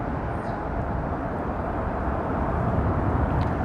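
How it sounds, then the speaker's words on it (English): Dense New York City street traffic, a steady close roar of engines and tires with no distinct horn blasts standing out. "Listen to all the honking noise and all the traffic,"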